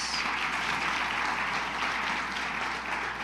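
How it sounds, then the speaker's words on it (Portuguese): A church congregation at a Portuguese-language celebration service claps together in a steady, dense wash of applause that holds evenly throughout, with no voices standing out. "Você pode dar um aplauso a Jesus?"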